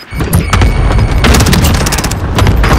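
Loud video-game combat: a thrown grenade goes off among rapid bursts of gunfire, with booms and sharp cracks packed densely through a short stretch, close and heavy.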